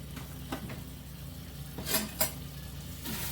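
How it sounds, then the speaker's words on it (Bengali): Pav bread toasting in butter with pav bhaji masala in a pan: a soft, quiet sizzle with a few sharp scrapes and taps as the bread is turned. "এবার আমি পাওটাকে সেঁকে নেবো, তার জন্য একটু বাটার দেবো, একটু পাও ভাজি মশলা তার উপর দিয়ে দেবো"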